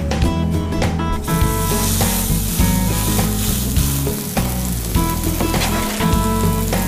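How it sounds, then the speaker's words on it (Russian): A meat patty sizzles loudly in olive oil in a hot frying pan, a continuous crackling hiss with small pops, close up and with no voices. "Пока котлета жарится"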